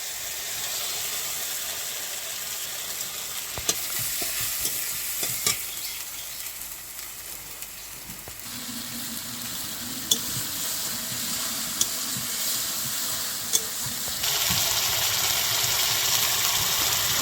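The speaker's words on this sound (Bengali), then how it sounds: "শুকনো লঙ্কা রসুন আদা আর একটু জিরে একসঙ্গে বেটে রেখেছিলাম দিয়ে দিলাম" A ground paste of dried chilli, garlic, ginger and cumin frying in a pan for a rohu (katla) fish curry with potatoes, a steady close sizzle with occasional sharp clinks of stirring and a brighter, louder frying hiss near the end.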